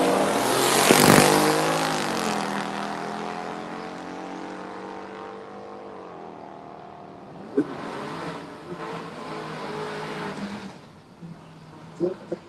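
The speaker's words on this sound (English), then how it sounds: "Beautiful green Chevelle rolling in the left side of track." A green Chevrolet Chevelle rolls onto a race track, its engine a loud droning roar that sweeps past nearby and fades, followed by more revving and mechanical bursts in the background.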